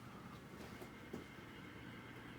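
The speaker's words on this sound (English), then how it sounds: "Yeah, it's the fan." A 44-inch Hunter Bedford ceiling fan from 1998 running in an apartment, a faint steady whooshing hum with a low rumble and a possible dry bearing noise, with no talking.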